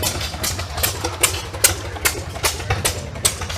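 A Briggs & Stratton model WM hit-and-miss engine, built as a replacement washing machine motor for a Maytag, fitted with a kickstart, runs close by with a low steady chug and regularly spaced sharp firing bangs, roughly every 0.4 seconds.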